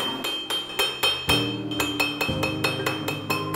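An iron hammer strikes a silver bar being rounded by a silversmith in Yunnan, ringing out in a steady series of about a dozen sharp, metallic blows, close and loud, with no talking.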